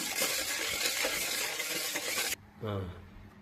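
A buttermilk and green chilli mixture being stirred in a pan, a loud continuous wet scraping and sizzle that cuts off abruptly, followed by a brief voice speaking.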